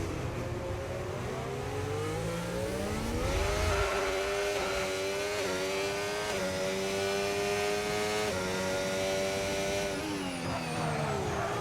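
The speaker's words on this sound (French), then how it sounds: "ça freine très très tard pour le pilote McLaren" A McLaren race car screams close at high revs, dropping through downshifts under late braking before climbing again in a steady, whining drone, with no voices over it.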